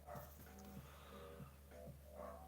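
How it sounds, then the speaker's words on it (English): Dog barking in the background of an indoor room, several muffled barks and yips spaced out over a low steady hum, faint and distant. "My dog is going nuts."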